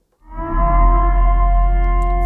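A siren sound effect played during a sports talk show, starting abruptly and then holding as one loud, sustained, harmonic-rich tone with a deep low drone beneath it, heard alone.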